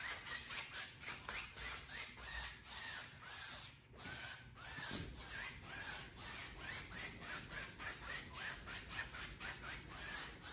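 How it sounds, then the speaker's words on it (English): Dry brush strokes blend paint upward across canvas in a coal mountain landscape, a steady rhythmic scratchy rubbing repeating about twice a second, close and fairly loud throughout. "with a clean dry brush, we're gonna go ahead and blend from down here all the way up"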